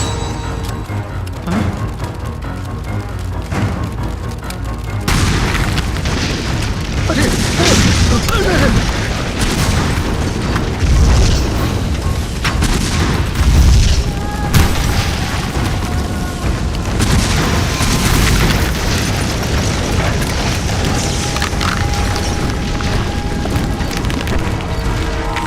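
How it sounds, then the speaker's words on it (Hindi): Explosions in an action movie boom one after another, merging into a continuous, loud rumbling roar with crashing bursts after a quieter opening stretch. "तीन मिनट बाद इस साइट पर एक के बाद एक धमाके होने वाले हैं।"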